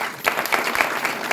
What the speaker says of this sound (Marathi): टाळ्या वाजवा सर्वांनी.